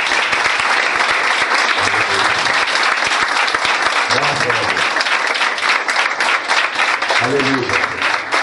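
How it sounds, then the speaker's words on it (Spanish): Sustained, loud applause from a wedding crowd, dense clapping throughout, with a few short Spanish phrases spoken over it. "Un fuerte aplauso para esto."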